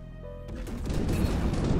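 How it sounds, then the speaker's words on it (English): Torpedoes launch in the space strategy game Terra Invicta, heard as a building rumble of rapid bursts and crackling impacts that swell over a low drone, fairly quiet and without talk. "we're shooting torpedoes."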